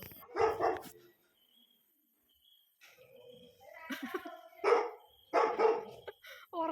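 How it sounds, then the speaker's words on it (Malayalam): A dog barks in short, loud bursts, a couple early on and several more later, separated by quiet gaps, with some voice mixed in. "ഉറക്കത്തിൽ എന്തുവാളെ എന്നെ കണ്ടിട്ട് കുരയ്ക്കുന്നേ"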